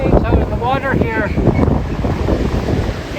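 Strong winter windstorm roaring against the microphone on the Victoria BC waterfront, with massive ocean waves crashing and surging continuously and a voice speaking briefly near the start.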